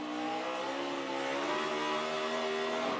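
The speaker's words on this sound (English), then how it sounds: "hear that wheel spin?" NASCAR race car spinning its wheels on a restart at the 2013 Auto Club 400: a continuous loud engine roar with rising, revving pitch and a harsh tire-spin edge, heard without talk.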